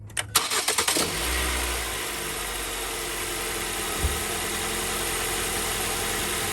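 A car engine cranks with several rapid starter pulses, catches, and settles into a steady, even idle, close and moderately loud with no voices.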